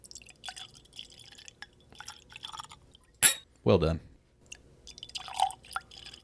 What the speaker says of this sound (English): That is the sound of a nearly empty bottle.